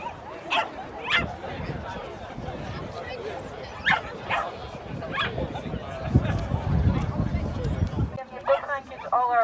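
Several dogs bark and yip at a parkrun gathering, in repeated sharp bursts, some near and some farther off, mixed with crowd chatter and talking.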